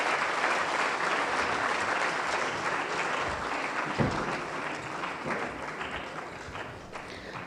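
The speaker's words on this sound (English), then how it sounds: "Friends, please join me in welcoming Ms. Smriti Irani on stage with a huge round of applause." An audience at an annual award ceremony applauds to welcome the chief guest on stage, dense, sustained clapping from a large hall crowd that stays even throughout, with a single thump partway through.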